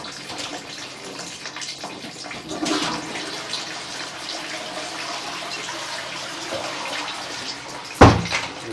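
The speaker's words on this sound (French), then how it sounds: "Nous allons tirer une chasse." Toilet flushed in a men's restroom sharing a room with urinals: a steady rushing, gurgling water flow that swells briefly, then settles into continuous refilling, ending with a sharp knock.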